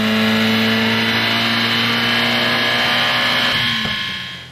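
Mitsubishi 4G63 engine fitted with an HKS GT II 7460R sports turbine kit, held at high revs on a dyno at 1.2 bar boost for a power check: a loud, steady mechanical whine and roar that fades as it winds down at the end.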